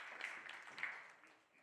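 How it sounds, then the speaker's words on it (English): Audience of about a hundred applauding at a 10-ball pool match, the last-eight stage of a World Cup in Qatar; faint, steady clapping that fades toward the end, with a commentator's voice over it. "So a round of applause there."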